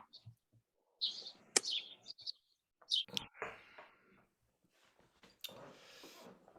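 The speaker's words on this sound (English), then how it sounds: "let us hear the birds for another little bit" Birds chirp outdoors in short, scattered bursts of high tweets separated by quiet gaps, mostly faint, with a few louder calls and some brief rustling noises.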